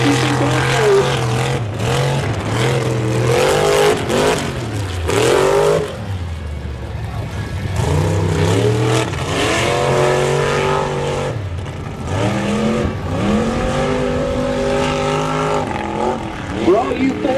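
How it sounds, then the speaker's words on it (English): A Ford-powered HMB Bronco race truck with a Ford motor roars and revs continuously on a hill-and-hole race course, clearing a tabletop jump; the engine pitch rises and falls while a commentator talks over it. "this is a all-Ford truck as he clears the tabletop"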